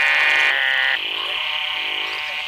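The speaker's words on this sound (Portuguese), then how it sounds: "descansar os ouvidos com a orquestra dos sapos" A chorus of toads croaks around flooded clay pits in the Brazilian sertão after the rains, a dense, continuous buzzing drone that stays steady and fairly loud throughout.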